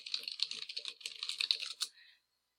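Quick burst of typing on a computer keyboard, close and fairly quiet, with rapid key clicks for about two seconds before stopping.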